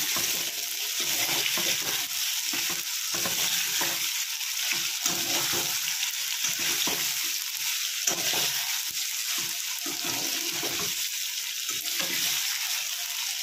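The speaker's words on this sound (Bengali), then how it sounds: "এবার এটাকে ভালো করে নাড়িয়ে নেব।" Cut potatoes for a white potato curry are stirred in a hot pan, a steady bright sizzle of frying broken by repeated scraping strokes of the spoon, close and continuous with no talk.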